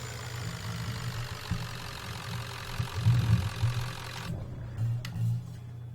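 A pickup truck engine in Farming Simulator 19 idles with a steady low rumble that swells a couple of times; the high hiss drops out partway through.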